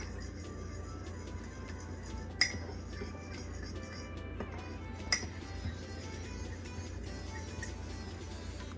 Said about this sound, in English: now I'm just mixing it around with a fork